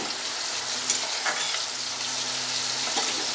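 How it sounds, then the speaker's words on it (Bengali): Puti fish hitting a pot of boiling sour broth, bringing a loud, steady hissing sizzle with bubbling throughout and a couple of brief clinks from a utensil against the pot. "টকের ঝোল ফুটে গেছে এবার আমি মাছগুলো দিয়ে দিচ্ছি"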